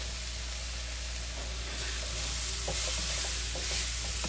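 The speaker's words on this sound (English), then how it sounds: "I want to saute my mushrooms. Get them all sauteed down in here." Mushrooms and garlic sautéing in a pan give a steady close sizzle, with scattered stirring scrapes and taps joining in the second half.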